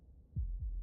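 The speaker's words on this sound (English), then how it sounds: "That was the sound of a heartbeat" Two deep, muffled heartbeat thumps from Slay the Princess, low and soft, spaced about a quarter second apart in an otherwise quiet stretch.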